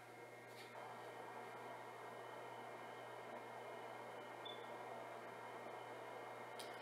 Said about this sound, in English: That humming noise that you hear is actually the fan on the Sumo